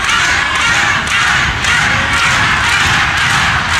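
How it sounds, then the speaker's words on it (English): A wrestling arena crowd roars at Kendo Nagasaki during a bout with Pete Roberts, a loud, continuous wall of shouting, booing and cheering that never lets up, with no talk standing out above it. "And that's what the crowd think of Kendo Nagasaki"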